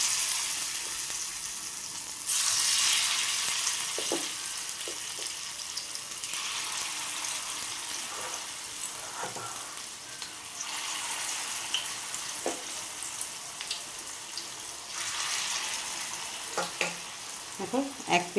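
Egg pakoras for an egg and potato snack deep-frying in hot oil, a continuous close sizzle that swells as pieces are added, with occasional clinks and scrapes of a utensil.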